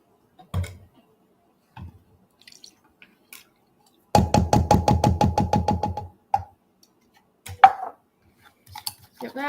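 A spoon stirring an oatmeal mixture in a bowl, a quick run of about a dozen even, rhythmic clinks and knocks lasting a couple of seconds, close and clear, with a few scattered taps before and after.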